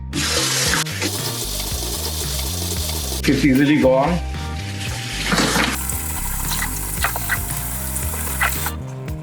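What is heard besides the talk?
running tap water rinsing crab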